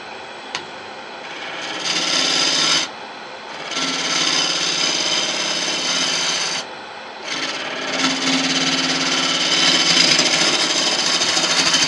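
Woodturning gouge making a pull cut across a spinning bowl on a lathe, a loud close hissing scrape in long sustained passes broken by a couple of brief lifts of the tool.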